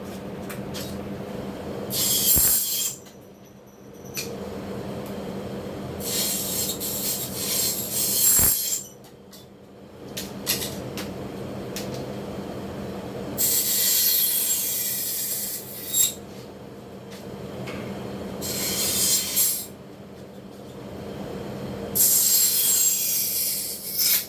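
Repeated raspy rolling and rubbing bursts come and go, a roller tool pressing spline into a half-moon solar screen frame, close and fairly loud.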